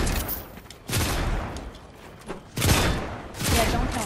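Bursts of rapid gunfire from the video game Fortnite, several loud volleys separated by short pauses, with quieter shots and voices in between.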